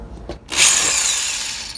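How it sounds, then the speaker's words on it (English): Power drill boring 1/8 inch holes for brass rivets in armor sabaton pieces, a short handling knock, then a loud close whine that holds steady before stopping. "I'm drilling them out to 1/8 inch holes"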